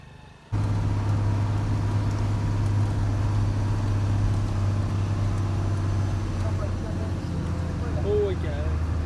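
A truck on a long-haul run from Guwahati to Mumbai drives into an army camp with a loud, steady low engine drone from start to finish. Faint voices come in near the end.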